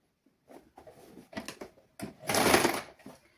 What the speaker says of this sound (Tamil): நாங்கள் இனி தைக்க இதை வடிவாக செட் பண்ணி நாங்கள் தைக்க வேணும்